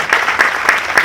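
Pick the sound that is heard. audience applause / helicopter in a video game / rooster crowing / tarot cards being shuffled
audience applause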